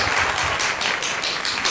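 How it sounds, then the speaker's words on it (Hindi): A burst of clapping from a small group of children, rapid and continuous, fairly close and fairly loud throughout. "सभी बच्चे मिलकर ताली बजाते हैं"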